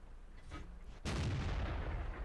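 A tank gun in World of Tanks fires with a single loud, sharp blast that rolls on as sustained booming rumble, alone without talk.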